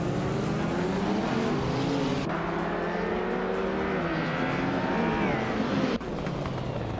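A classic 1986 BMW M3 race car in a racing game, its engine roaring loud and close with rising and falling revs through gear changes, a sharp shift in tone near the middle and another just before the end.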